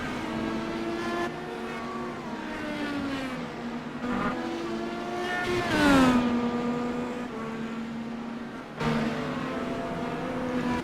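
Race cars driving through the bus stop section, several engines revving and shifting in overlapping whines. One car sweeps past loudly at mid-span, then more cars rise and fall farther off.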